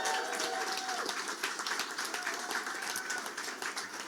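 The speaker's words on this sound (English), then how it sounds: "a big round of applause for an awesome campaign team" Sustained applause from a crowd of supporters cheering a campaign team at a U.S. Senate election-night victory rally, dense and steady clapping filling the whole moment with no talk over it.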